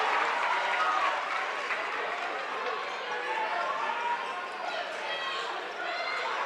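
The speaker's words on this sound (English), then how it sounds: "Big applause from the crowd." Broad, steady crowd applause fills a high-school boys basketball gym, loud and continuous for several seconds with a faint lift near the end.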